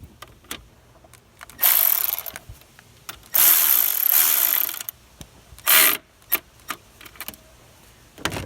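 A ratchet wrench tightens a bolt on the alternator of a 2006 Kia Rio, giving rapid metallic clicking bursts in three longer runs mixed with scattered single clicks and clanks, close up and with no voices.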